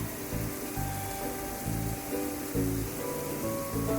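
Frozen ragda pattice fry in a pan with a steady, close crackling sizzle, broadband hiss under faint low bubbling and a few soft clinks, continuous throughout with no talking.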